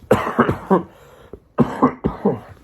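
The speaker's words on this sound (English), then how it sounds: "sorry for the cough once again" Several harsh, throaty coughs come close to the microphone in two quick clusters separated by a brief pause.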